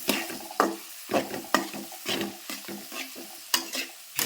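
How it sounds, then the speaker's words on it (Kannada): Garam masala and chilli powder fry in oil while a spoon stirs them in repeated scraping strokes over a soft sizzle, close and clear with no voices. "ಎಲ್ಲ ಮಸಾಲೆಗಳು ಒಂದು ಸ್ವಲ್ಪ ಎಣ್ಣೆ ಒಳಗೆ ಫ್ರೈ ಆಗಬೇಕು"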